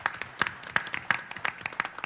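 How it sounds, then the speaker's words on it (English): A conference audience at a Latino policy event claps in a brief, fairly sparse round of applause, with distinct individual hand claps landing in a loose rhythm at moderate distance. "I think that we should all applaud them again"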